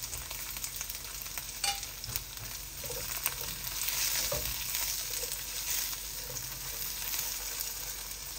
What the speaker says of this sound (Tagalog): So the onions, we'll see the onions like it's popping.